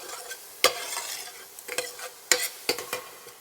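Onions fry in a pan and a spoon stirs them now and then, a soft constant sizzle broken by sharp scraping clinks at irregular moments, close by with no speech.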